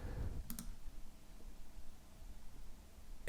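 A computer mouse clicks twice in quick succession at a Photoshop workstation, crisp and close, followed by a low, quiet room hum.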